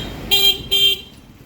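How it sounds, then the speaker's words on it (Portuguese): Two short car horn blasts honk in quick succession on a busy Kathmandu street, loud and close over low traffic noise. "a buzina, como eu falei, buzina o tempo inteiro."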